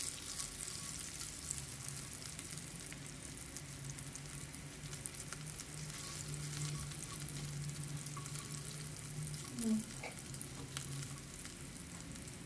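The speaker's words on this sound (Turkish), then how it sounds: "Evet, çok güzel kızartalım." Lean ground beef köfte meatballs fry in a pan with a steady, soft sizzle throughout, and a brief clink of utensils comes near the end.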